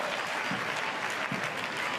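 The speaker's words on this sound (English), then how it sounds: "And the crowd cheers." A stadium crowd at a women's A-League football match between Sydney FC and Central Coast Mariners roars and applauds in a dense, loud, continuous wash of cheering.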